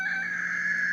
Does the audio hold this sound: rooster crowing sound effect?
yes